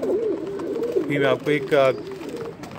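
Soft, low cooing of Teddy pigeons rolls on nearby while someone speaks over it briefly.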